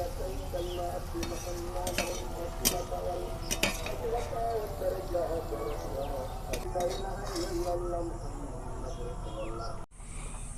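Bitter gourd and onion being stir-fried in a pan, a steady low sizzle with a utensil repeatedly scraping and knocking against the metal, close by, with a voice speaking over it.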